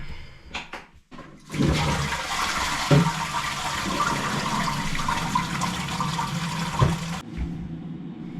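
A toilet flushes loudly and close by, with a broad rush of water lasting about six seconds after a few handling knocks, then a gurgling refill; this happens during a plumber's search for a leak around the pan connector and flush cone.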